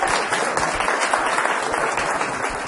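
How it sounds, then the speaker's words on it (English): Council meeting audience applauding visiting guests, a continuous patter of many hands clapping at moderate loudness with no talk on top. "Let's have a big round of applause for them,"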